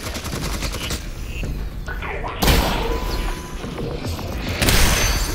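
Heavy gunfire from big guns in the VR game Half-Life: Alyx, loud sustained bursts with booming impacts, rising in two stronger surges, with no speech over it.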